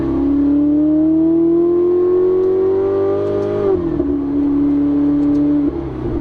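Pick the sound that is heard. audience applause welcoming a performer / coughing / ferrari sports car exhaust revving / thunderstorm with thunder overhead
ferrari sports car exhaust revving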